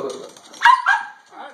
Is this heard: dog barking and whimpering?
yes